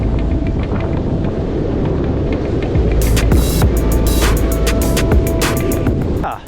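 Wind buffets a microphone outdoors, making a loud, steady low roar with scattered crackles and pops in the second half, until it drops away at the very end.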